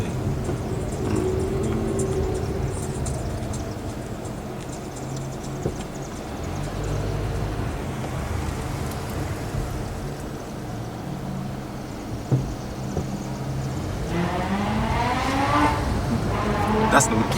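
A car with a rotary engine and an aftermarket muffler idling and running nearby at a steady low drone, with people talking over it and a rising rev near the end.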